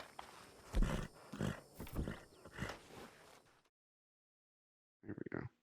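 Horse sounds from Red Dead Redemption 2 Online, loud bursts of snorting, whinnying and hoof noise for several seconds, then silence, then a short closer burst near the end.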